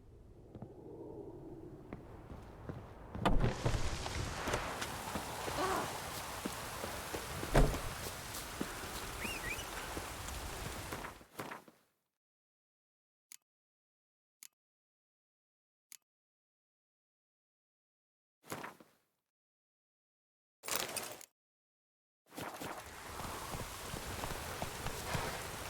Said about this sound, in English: Oh, aye, rain. Perfect.